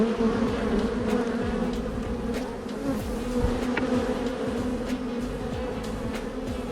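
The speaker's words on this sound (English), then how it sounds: "try not to squish bees, but it's kind of impossible because they're everywhere" A dense, steady drone of many honey bees buzzing close by around a crowded hive, continuous and busy with individual buzzes swelling past over the hum.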